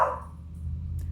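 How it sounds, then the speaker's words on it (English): A pet dog barks once, a short sharp bark at the start heard from another room, followed by low household rumble and a faint click. "My dog's barking."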